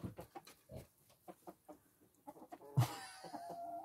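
A hen clucks in a run of short, evenly spaced calls, close and clear, with one louder squawk near the end, heard in a home flock near a misplaced egg.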